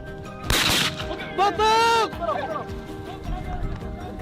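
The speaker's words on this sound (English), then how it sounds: "a series of rapid shots blocked its escape route" Several sharp shots crack out during a wild boar hunt, a loud burst near the start followed by a sustained tonal sound and scattered smaller impacts, with voices partly present.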